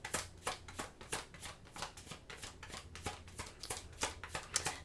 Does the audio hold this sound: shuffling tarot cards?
yes